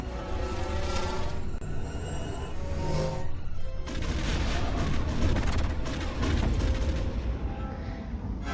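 Rapid bursts of blaster fire and booming impacts from enemies shooting in Lego Star Wars: The Complete Saga, loud and dense, with heavier explosive hits clustering in the second half.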